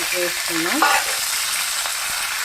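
Curry leaves, cumin and dried chilies fry in hot oil for a tempering, giving a loud, hissing sizzle with a brief squeal and a few light clicks from a spoon.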